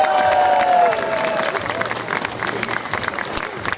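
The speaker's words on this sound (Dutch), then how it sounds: "Ik wil een heel groot applaus voor hem." A carnival crowd applauds and cheers in a dense, sustained wash of clapping, with a voice over a loudspeaker at the start and excited shouts mixed in.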